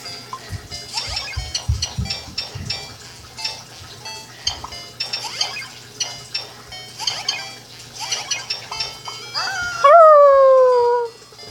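A dog in a video game howls and whimpers, with repeated yelping cries and a long rising howl at the end, sounding loud and close over game sounds.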